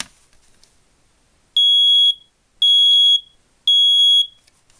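Three loud, steady electronic beeps from a smoke alarm with tape over its horn, each about half a second long with short gaps, sharp and shrill despite being muffled.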